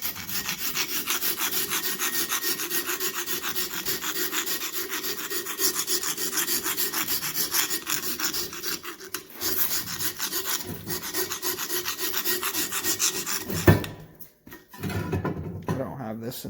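A Matco hand scraper rasps across a surface in steady back-and-forth strokes, close and gritty, continuing for several seconds before a knock and a brief pause, then resuming.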